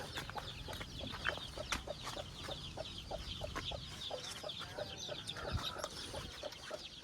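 Peruvidai chickens and roosters on a poultry farm in Salem, giving many scattered, overlapping clucks and short calls at a fairly low level over faint farm background.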